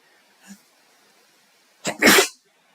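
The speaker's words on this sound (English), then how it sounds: "In Poland, I would mute this sneeze" A single loud, close sneeze bursts out after a brief faint intake, with quiet around it.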